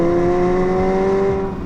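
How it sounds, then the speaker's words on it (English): McLaren 765LT with a titanium quad-pipe exhaust holding a steady, loud, resonant engine drone at constant revs, close and alone for under two seconds. "we found that 4 pipes placed a very precise distance apart gave the exhaust noise a"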